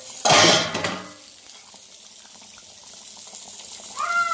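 Fish curry (chepala pulusu) cooking in a pot and being stirred, with a short loud burst of scraping and bubbling near the start, then a low, steady simmer and faint clinks.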